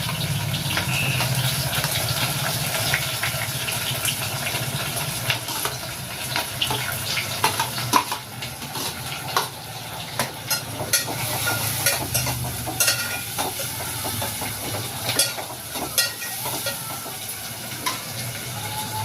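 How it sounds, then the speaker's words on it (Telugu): Onions, with green chillies over already-fried tempering seeds, sizzle steadily in a pan while a spoon stirs and scrapes them, with irregular clinks and scrapes for the whole stretch; no one talks. "ఆనియన్స్ తొందరగా ఫ్రై అవ్వడానికి కొంచెం సాల్ట్ అయితే వేసుకోవాలండి"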